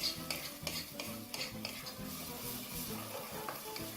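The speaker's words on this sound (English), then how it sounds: "just continue mixing and stirring" Muthokoi, a traditional Kenyan dish, stirred with chicken stock in a pot over raised heat: repeated scraping strokes of a spoon against the pot, a light sizzle under them, close and fairly steady with no talk.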